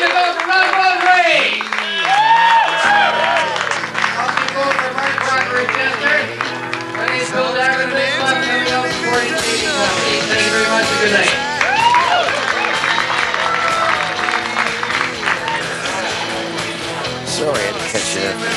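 A comedy club crowd applauds and cheers for comedian Ron Vaudry, loud sustained clapping and whoops filling the room while voices talk over the noise throughout.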